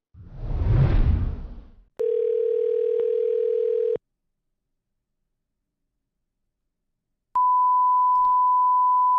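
Telephone tones from calling a coin shop: a whoosh, then a steady two-second beep tone, a silent pause, and a loud single-pitched dial or ringback tone starting again, all close and with no talk.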